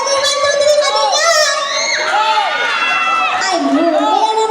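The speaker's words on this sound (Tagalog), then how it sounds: "Wala bang palakpakan na may kasamang hiyawan dyan?" Crowd at a fiesta mini concert cheering and shouting loudly and continuously, with high excited voices and some children yelling; clapping is not clearly distinct beneath the roar.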